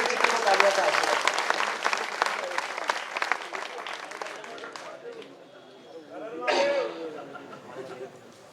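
A poetry gathering's audience applauds poet Vijay Vichitra, a dense burst of clapping that thins out and fades, rises briefly once more, and trails off under voices.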